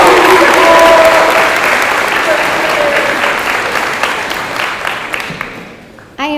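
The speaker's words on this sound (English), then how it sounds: "Can I get a round of applause for JT?" The crowd at a high school awards ceremony gives a teacher a round of applause. The clapping is loud and dense at first, then thins and fades over about six seconds, and a voice briefly breaks in near the end.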